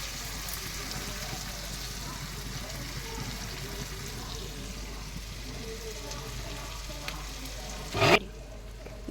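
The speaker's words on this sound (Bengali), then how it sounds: "টমেটো, কাঁচা লঙ্কা, পেঁয়াজ ভাজা হচ্ছে।" Tomato, green chilli and onion fry in hot oil for a fish curry, giving a steady close sizzle and crackle throughout, with a brief louder clatter near the end.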